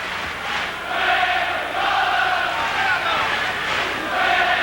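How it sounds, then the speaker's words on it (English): A boxing arena crowd sings and chants for Prince Naseem Hamed in his fight against Manuel Medina, a broad swelling roar of many voices, with a commentator talking over it. "And the crowd singing and chanting."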